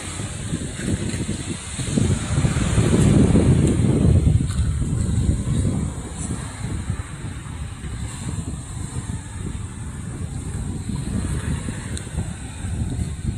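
Strong wind blows by the sea, rushing and buffeting a nearby microphone in heavy gusts, loudest early on and then steadier, with coconut trees rustling and no talking.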